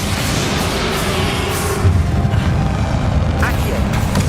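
Bombarda spell explosion in the Hogwarts Legacy video game, a loud boom and crash midway through a constant roar of combat effects and music, with a voice speaking over it.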